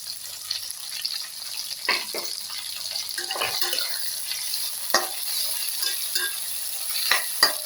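Onions and chopped tomato frying in a pan for an ivy gourd and sesame paste curry, a soft sizzle broken by several scraping strokes of a spoon, close and unvoiced.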